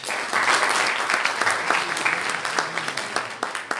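Applause from a crowd, a dense patter of clapping that starts strong and gradually thins out over a few seconds.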